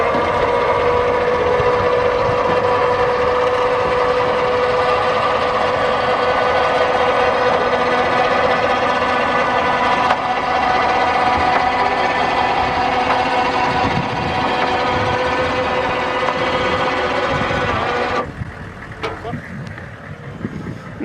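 A converted school bus engine runs at a steady idle, a close, dense droning hum with layered tones that holds for most of the stretch before suddenly dropping away near the end.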